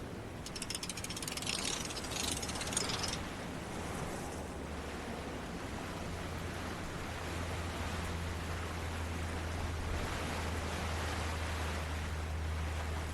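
A sail sheet winch ratchets in the Sailaway 3 sailing game, a quick burst of fine clicking over the first few seconds, followed by a steady wash of waves and wind at low level.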